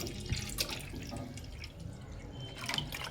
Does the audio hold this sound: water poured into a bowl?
yes